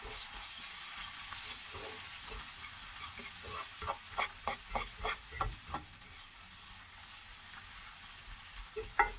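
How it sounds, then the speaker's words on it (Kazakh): Chopped cucumber frying in a pan with other ingredients while solyanka is cooked: a low, continuous sizzle runs throughout, with a quick series of stirring clicks and taps in the middle. "2-3 минут тағы да қуырамыз."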